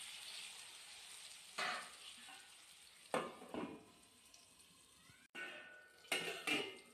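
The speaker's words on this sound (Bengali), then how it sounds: "পটলগুলোকে এবার ওপাশ লাল লাল করে সুন্দর করে ভেজে নেব" Pointed gourd (potol) frying in a generous amount of oil produces a steady low sizzle. Several louder bursts of crackling and spatter come as the pieces are turned, close by and with no voices.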